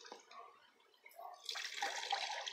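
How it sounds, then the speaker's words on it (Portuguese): Cassava water (manipueira) drips, then runs from a thin cloth squeezed by hand while making tapioca; a faint, sparse patter builds into a steadier close trickle. "Aí sai só essa água, que é manipoeira."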